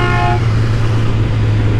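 A short car horn toot at the start, then steady engine and road noise from inside a moving vehicle.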